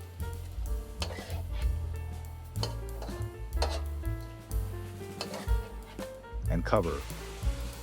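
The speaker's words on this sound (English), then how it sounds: "Then toss in the pre-mixed sauce. Stir around for about another 10 seconds." Bean sprouts with pre-mixed sauce stir-fried in garlic-flavoured oil, sizzling steadily with scraping, stirring clatter from a pan throughout while a person talks over it.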